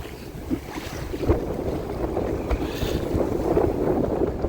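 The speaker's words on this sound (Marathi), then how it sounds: "पण वारा एकदम भरपूरच आहे" Strong wind before a storm buffets the microphone over a steady rush of sea waves, with gusts swelling and fading and a few louder surges of water.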